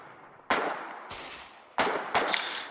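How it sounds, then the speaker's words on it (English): Gunfire from a machine gun nest in Foxhole during a bridge battle, four sharp, loud shots or short bursts spaced irregularly, each ringing out with a decaying echo. "Will this MG nest stop shooting at me, please?"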